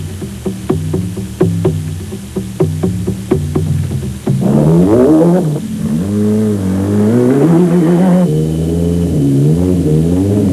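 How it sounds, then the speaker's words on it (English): Citroën and Mitsubishi rally cars at the 1996 Granada–Dakar rally: a series of sharp engine revs and gear blips at first, then a sustained loud, close engine roar rising and falling in pitch as the cars accelerate. "The unmistakable sound of the Citroëns and the Mitsubishis leading the"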